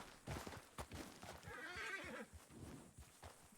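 A dirty horse in a western role-play video game gives a loud, wavering whinny amid nearby clip-clopping hooves, close and clear.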